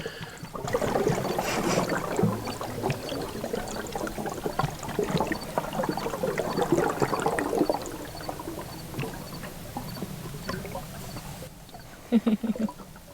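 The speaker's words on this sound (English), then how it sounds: "It's gurgling." Water gurgling and trickling in a farm tank as a valve is opened, a continuous bubbly churning at moderate level, fading with a short gap near the end.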